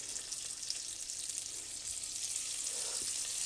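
Scallops searing in a hot frying pan give a steady, loud, close sizzle with crackling spits, continuous for a few seconds with no talk over it.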